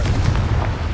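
A brief, loud, rumbling boom from the Confringo explosion spell in the Hogwarts Legacy video game, a sustained low blast filling the whole short moment.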